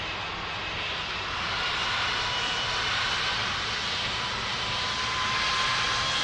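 Airbus A340 jet engines roar steadily during landing, a loud, broad continuous rumble and whine that swells slightly over several seconds with no talk.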